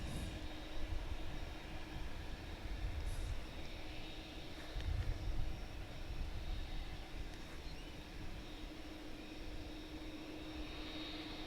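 A jet airliner taxis and swings through a U-turn at Dallas/Fort Worth airport, its engines a steady, distant broadband rumble with no voices over it.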